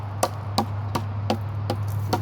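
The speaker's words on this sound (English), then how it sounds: "hammering it down the rest of the way until it pierces all the way through." Six evenly spaced hard knocks of a hammer driving a blade into wood, steady rhythm, close by, over a low constant hum with no talking.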